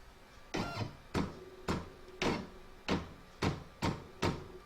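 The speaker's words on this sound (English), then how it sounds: "I'm just going to go back 10 stitches at a time until my needle" A home embroidery machine stepping backward through stitches on an in-the-hoop coaster, making eight evenly spaced mechanical clunks about every half second, close and fairly quiet.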